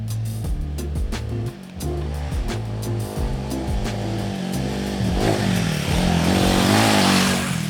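A Royal Enfield Himalayan 450 adventure motorcycle is ridden off-road. A loud, close engine rises and falls through gear changes, with rushing wind and gravel noise building toward the end.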